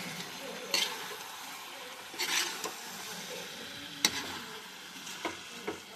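Chicken sukka being stirred in a pan over a soft, steady sizzle, with a spoon or spatula scraping and clinking against the metal at intervals.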